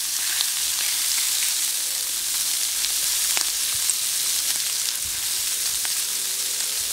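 Salmon and prawn skewers sear on a hot plancha, its heat just turned down, giving a continuous close sizzle sprinkled with small irregular pops and crackles throughout.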